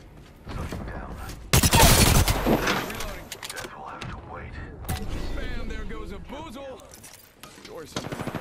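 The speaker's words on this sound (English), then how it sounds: "Taking fire" Bursts of gunfire in the Apex Legends video game, a loud volley near the start followed by scattered shots and mechanical clicks, with a player talking over much of it.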